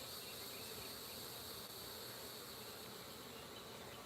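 Honeybees buzz around an open hive during an inspection, a faint, continuous droning hum with no speech over it.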